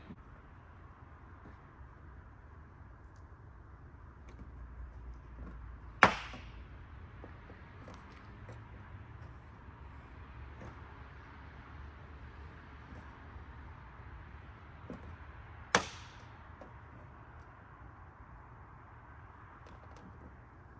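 Plastic clip on a 2017-2019 Ford Super Duty LED cab light snapping free as it is pried, two sharp isolated clicks several seconds apart over faint steady background noise, no speech.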